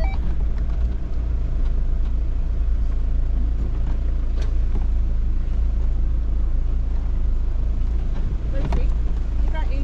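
4WD vehicle crossing a deep, rocky river on the Macalister River Track in Victoria, a steady loud engine drone with wind buffeting and occasional knocks from rocks underneath.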